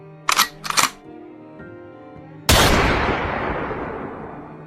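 A single sharp gunshot from a loaded gun cracks out loud and close, its long reverberating tail fading over two seconds, after two short clicks, as a sound effect in a Mongolian horror audio story.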